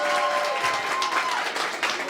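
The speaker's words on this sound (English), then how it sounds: "Can you guys please give him a round of applause?" An audience applauds for Mohamed Omar, the newly elected Somali council member, a dense sustained burst of clapping from a crowd throughout, close and fairly loud.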